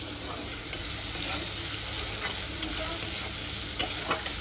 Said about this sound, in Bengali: পেঁয়াজ কুচি কুচি করিয়া কাটিয়া, পেঁয়াজটারে ভাজবো